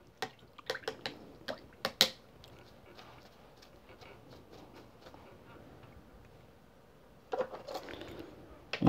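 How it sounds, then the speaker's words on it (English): A paintbrush gets swished and tapped in a water jar during a watercolor painting of autumn trees, a few sharp knocks and clinks followed later by a splashy rinsing burst, close and fairly quiet. "I'll wash that brush out."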